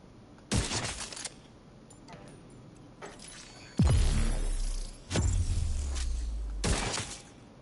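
In The Division 2, the exotic Nemesis sniper rifle fires a few sharp, loud shots spaced several seconds apart, each cracking over quiet game ambience, with one heavy boom ringing out longer.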